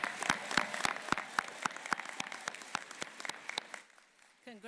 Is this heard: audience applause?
yes